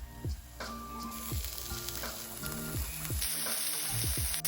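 Vegetables stir-frying in olive oil for a veggie stir fry, a steady close sizzle with repeated scraping stirs and knocks of a utensil against the pan.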